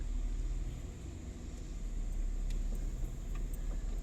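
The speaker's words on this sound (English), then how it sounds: "I'm going to start driving just across my lawn here" A car drives slowly across a residential lawn, giving a steady low engine rumble with a constant hum, heard from inside at an even, moderate level throughout.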